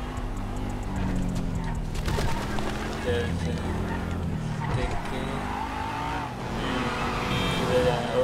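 Car in GTA 5 driven recklessly, its loud engine roaring and revving steadily under game music with brief tire-squeal bursts.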